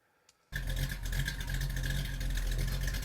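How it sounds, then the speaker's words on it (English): Classic Ford Mustang V8 muscle car engine starting up after a moment of quiet, then idling loud and close with a deep, steady rumble. "classic Ford Mustang"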